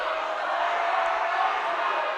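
A Mountain Vista volleyball crowd jeers the Ponderosa server at set point: a steady, loud wash of many voices in a gym, with a commentator talking over it.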